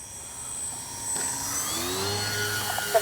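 Dynam P-61 Black Widow RC plane making a touch and go, a steady engine whine that rises and sweeps in pitch as it passes close, with a brief louder bump near the end.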